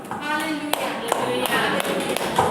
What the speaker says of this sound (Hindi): क्या कंजूस के जैसा ताली बजाता है यार